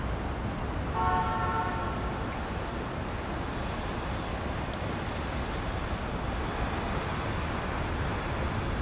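A cartoon-style train effect: a steady rumbling train in motion with a short horn toot near the start, continuous and fairly loud throughout.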